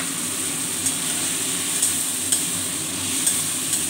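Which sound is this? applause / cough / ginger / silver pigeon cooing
ginger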